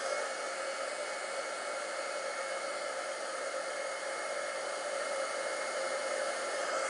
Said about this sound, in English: So I'm going to heat up my heat tool.